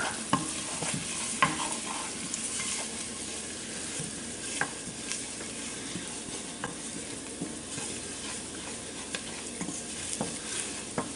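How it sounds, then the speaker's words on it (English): Dried Italian seasoning and basil stirred and sizzling in a hot pan for marinara sauce, a steady close crackle with repeated scrapes and taps of the spoon against the pan. "And then we're going to add the Italian seasoning mix and the basil. And we're just going to stir that for about 30 seconds."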